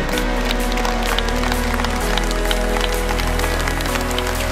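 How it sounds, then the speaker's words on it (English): Loud, sustained clapping from a crowd at the Sounds of Hope charity event for Ukraine, a thick continuous patter of many hands over a constant low hum in the hall. "Big applause, ladies and gentlemen"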